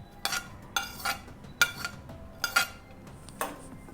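A spoon clinks against a pot while onion pieces, green chili and mint are stirred with yogurt for ghee rice: five or six sharp, separate metallic knocks spaced under a second apart, with quiet between them.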